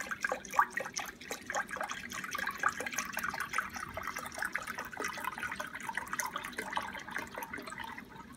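Chicken broth is poured into a Dutch oven holding baby back ribs, a soft steady trickle and splash of liquid with light drips throughout.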